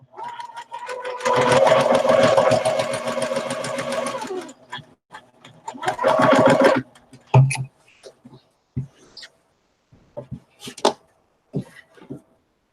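Sewing machine chain sewing quilt pieces, two loud bursts of rapid stitching whir, the first long and the second shorter, followed by scattered clicks and small handling sounds, close up.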